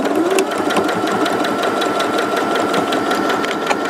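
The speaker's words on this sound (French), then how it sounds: "on va coudre sur toute la longueur du tissu" A sewing machine stitches along the length of fabric for a dry, rice-filled hot water bottle, running steadily and loudly with a fast mechanical chatter and no voices.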